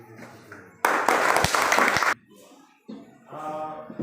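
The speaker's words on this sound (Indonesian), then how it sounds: "Mari kita memberikan aplaus kepada kelompok 4 yang sudah mempresentasikan hasil diskusi." A classroom of students applauds a student group after their presentation: a loud burst of clapping lasting just over a second, with quieter voices before and talk resuming after.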